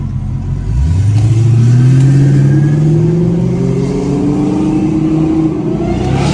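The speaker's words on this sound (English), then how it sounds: "He's asking to rev it." A Dodge Hellcat Redeye's supercharged V8 revs loudly and close, pitch climbing steadily from idle into a sustained high-RPM roar that holds to the end, with no talk over it.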